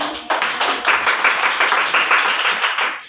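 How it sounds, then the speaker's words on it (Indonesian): Classroom clapping in an Indonesian-language lesson after a student's presentation, a short burst of many hands starting abruptly, fairly close and loud, with distinct individual claps in an uneven rhythm. "tepuk tangan."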